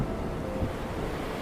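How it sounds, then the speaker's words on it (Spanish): Stormy sea with waves and strong wind, a steady, full roar of rushing water and gusting air heard alone, without voices. "Conforme llovía más intensamente, el viento soplaba aún más todavía. Las olas eran gigantes, las olas eran enormes."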